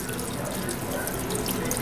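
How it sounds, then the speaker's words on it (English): Chicken broth pours into a pot while chicken fried steak is being prepared, a steady splashing, trickling stream of liquid that runs continuously and close by without talk. "Let's pour some. I got some chicken broth here."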